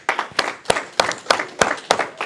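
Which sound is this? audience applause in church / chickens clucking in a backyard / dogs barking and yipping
audience applause in church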